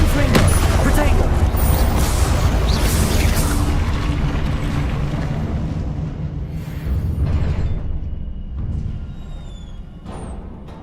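Hogwarts Legacy combat spells Confringo and Incendio go off in a dense rumbling barrage of booms and fiery bursts, loud and close at first, then thinning and fading toward the end.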